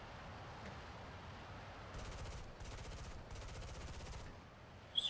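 Aircraft machine guns firing from an F-86 F-25 Sabre jet in the War Thunder video game, three short rapid bursts over steady engine drone, fairly quiet.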